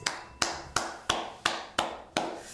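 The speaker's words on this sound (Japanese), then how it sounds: "もう情緒不安定で拍手出ちゃってるもん。" Seven slow, evenly spaced hand claps, each a crisp, close slap with a short decaying tail, heard alone in a quiet room.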